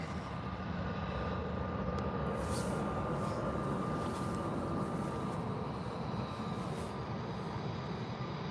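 An EasyJet airliner departs from Birmingham airport, its engines a faint, steady broadband rumble held at a distance, with a thin high tone running through and no voices.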